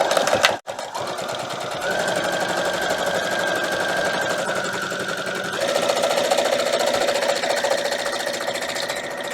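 A sewing machine backstitches quilt charm squares, a loud, close, rapid mechanical whirring chatter running steadily after a brief pause, with a slight change in pitch partway through.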